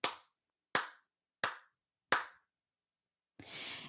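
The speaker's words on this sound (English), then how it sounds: "or I can clap like this." Four sharp hand claps spaced roughly evenly, each with a short decay, followed by a longer, softer broadband smear as the hands stay pressed together; quiet room, no talking.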